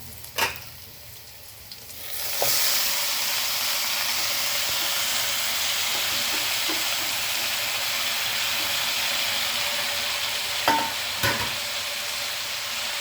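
Spinach greens dropped into hot oil with shallots, green chillies and garlic burst into a loud, continuous sizzle after a light clatter, with occasional sharp stirring knocks against the pan.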